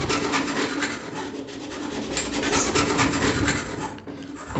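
A hacksaw blade cuts through plastic fitting material during a toilet flush tank installation, a steady close rasping of quick back-and-forth strokes with no pause until a brief dip near the end.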